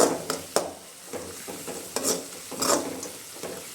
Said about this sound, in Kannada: ಇವಾಗ ಇದನ್ನ ಈರುಳ್ಳಿ ಹಾಕೊಂಡು ಫ್ರೈ ಮಾಡ್ಕೊಳ್ತೀನಿ